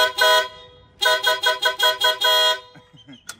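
A jeep horn fitted with combined beep and pan tones sounds one short blast, then a rapid run of six loud, evenly spaced beeps, followed by faint clicks and quiet.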